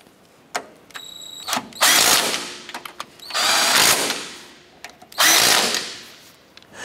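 A power tool snugs down the upper ball joint nuts on a 2008-2012 Honda Accord, sounding in three loud, whirring bursts of a few seconds each with brief mechanical clicks between them.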